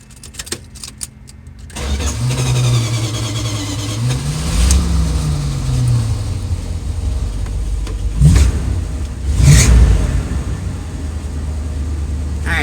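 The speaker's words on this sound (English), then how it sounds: "it started up without me having to put my foot on the gas or floor it or anything" An RV engine cranks briefly with a few clicks, then catches and starts, settling into a loud, close rumbling idle with a couple of revs rising and falling.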